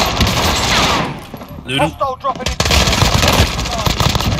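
Gunfire in a multiplayer shooter game, rapid loud bursts of automatic fire close by, broken by a short pause with people talking over the shots before the firing resumes.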